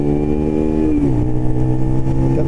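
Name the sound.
motorcycle engine revving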